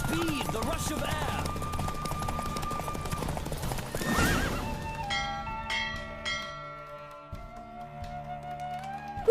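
A horse in The Witcher 3 gallops at a fast, rhythmic pace, neighs loudly, and slows to a halt amid ringing bell tones and game music.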